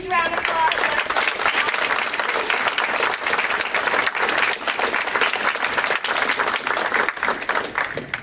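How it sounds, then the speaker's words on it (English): A room full of people at a self-injury awareness walk event claps loudly and continuously to welcome a young woman to the stage, a close, dense wash of hands with scattered voices mixed in. "Let's just give her a huge round of applause."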